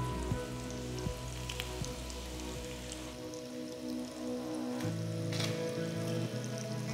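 Paneer pieces roast in a pan with a soft, continuous crackling sizzle like light rain, steady and fairly quiet, with a faint background hum and no voices.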